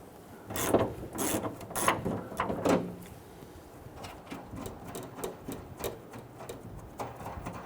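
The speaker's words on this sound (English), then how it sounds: "there's two 10mm nuts we need to loosen and remove. I'm going to use my 10mm socket and extension." A 10mm socket ratchet with an extension loosening nuts on a 2007-2017 Jeep Patriot liftgate. A few louder mechanical clicks come first, followed by a steady, closer run of quick ratcheting clicks.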